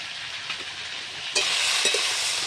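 Turmeric and chili powder frying with vegetables and green chilies in a pan, a steady hiss that swells louder partway through, with a couple of brief stirring scrapes near the end.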